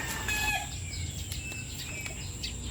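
A rooster crows and clucks close by in an early-morning backyard, loud over a steady outdoor background with other birds faintly audible.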